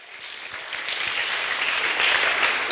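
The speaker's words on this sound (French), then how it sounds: "Donnons une forte acclamation au Seigneur." A Sunday school congregation applauds in acclamation of the Lord, clapping swelling steadily from a moderate start to a full, dense round of applause.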